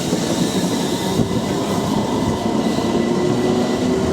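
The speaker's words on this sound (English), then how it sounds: "Passing trains." A train passes through a South London railway station, a steady, loud rumble of wheels on rails with faint squealing and clatter, no talk.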